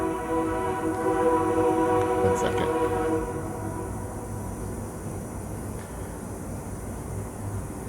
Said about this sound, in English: there's a train across town